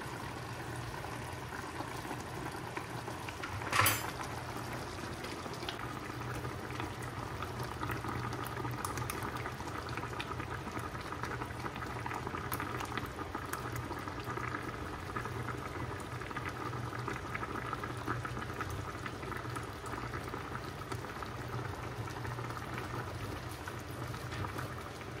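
Egg-rich sauce bubbles in a pot on a stove, a steady, soft, continuous boil with a brief louder clatter near the start and no talking.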